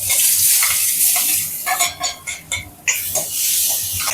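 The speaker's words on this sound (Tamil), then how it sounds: "இப்போ நல்லா வெங்காயம் வதங்கிச்சு" Onions sauté in oil with fennel powder in a pan for mutton keema, a loud, close hiss of frying broken midway by a burst of vigorous spatula stirring and scraping, then settling back to steady sizzling; no one speaks.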